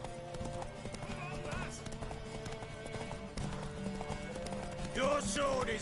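In The Witcher 3: Wild Hunt, a horse's hooves beat rapidly in a gallop over game music, with a clear whinny near the end.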